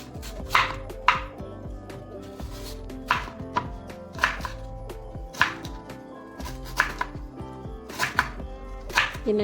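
Knife chopping raw tender mangoes for pickle on a board, a series of sharp irregular chops in small bursts, close and clear with no voices.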